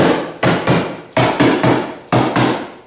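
A wooden cabinet side is tapped into its front frame with a series of sharp wooden knocks, about six blows in uneven pairs, close and crisp with short decays, with no speech.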